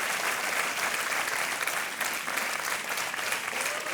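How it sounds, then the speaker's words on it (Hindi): Studio audience applause on a television quiz show, Kaun Banega Crorepati, a thick, continuous burst of many hands clapping at steady loudness throughout, with no voices over it. "तालियां बजती रहनी चाहिए देवी और सज्जनों।"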